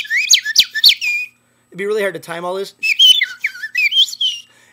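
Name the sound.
person whistling imitating bird calls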